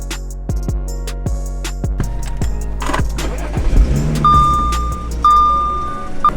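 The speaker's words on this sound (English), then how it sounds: "We're gonna start the car back up." An Audi S5 is started after a headlight ballast replacement: a series of evenly spaced clicks and thumps lead into the engine catching and settling into a low idle, followed by steady electronic warning chimes.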